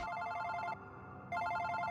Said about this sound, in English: Oh wait, that is my phone. Sorry, I have to take this.